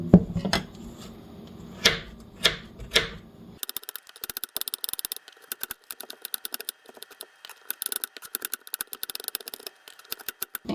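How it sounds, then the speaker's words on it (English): Carrots chopped into small pieces for carrot cake: a few heavier knife strokes at first, then a rapid run of crisp, close taps on a cutting board continuing to the end. "Let's cut up the little pieces."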